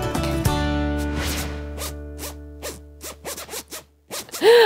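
A zip on a piece of clothing is pulled open and closed in a series of quick ripping strokes, close and clear, with a tonal hum underneath at the start and no talking.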